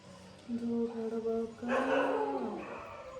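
A dog gives a few drawn-out, whiny yips and bark-like cries, one short call followed by a longer, louder rising and falling one, heard fairly close against quiet background hiss.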